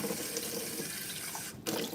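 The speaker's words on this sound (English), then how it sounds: "I didn't wash out my coffee cup for tomorrow, so I'm just trying to do that now." Steady rush of tap water running into a sink while a coffee cup is rinsed, continuous and close, with a brief break as the cup is moved under the stream.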